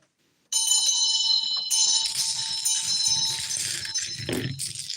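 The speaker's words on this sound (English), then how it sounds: "I'm going to ring a bell and clear the air here." A bell is rung and its bright metallic tone rings out loudly, then sustains and decays over several seconds. A second strike or a handling noise follows near the end.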